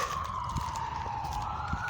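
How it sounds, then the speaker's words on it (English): A steady wailing siren tone sweeps slowly in pitch, sounding somewhat distant over low background rumble. "hopefully that siren is not for us"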